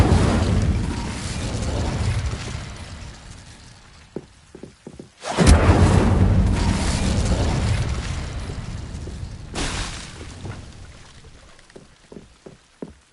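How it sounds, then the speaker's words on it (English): A fire spell cast in Hogwarts Legacy erupts as a loud, broad roaring burst that swells and sustains for several seconds, then a second surge follows, with short sharp clicks between. "Incendio!"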